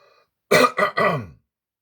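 Someone clears their throat close up in three harsh, gravelly bursts, the first strongest, then silence.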